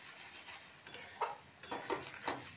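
Spice paste of chili, coriander and turmeric powder cooking in oil for a prawn curry, a faint constant sizzle broken by a few light scrapes and taps of a stirring spoon, with no one talking.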